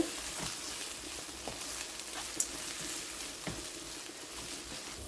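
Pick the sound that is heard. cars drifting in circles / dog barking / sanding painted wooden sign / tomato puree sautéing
tomato puree sautéing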